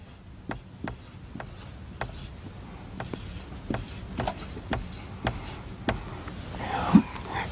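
Pen writing account figures on paper, a series of close, distinct scratchy strokes in an uneven rhythm, quiet and alone without speech.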